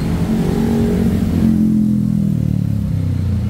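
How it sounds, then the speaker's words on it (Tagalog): A motorcycle fitted with an SC Project carbon slip-on exhaust revs loud and close, a dense, throaty engine drone whose pitch holds, then sags and lightly rises. "sound check natin yung motor ni Boss Paul."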